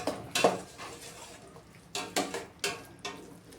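A spoon stirs curry leaves into beetroot palya in a pan, with sharp clinks and scrapes against the metal in short irregular bursts over a faint background hiss.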